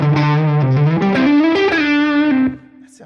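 Electric guitar tuned low, played through a Lovepedal Box of Awesome custom pedal, ringing out in a few sustained distorted notes with rich harmonics before the final note cuts off and fades.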